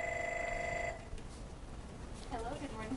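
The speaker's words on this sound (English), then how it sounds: "Oh, we have a phone call." A phone ring tone sounds steadily for about a second, then cuts off as a person begins talking in a quiet room.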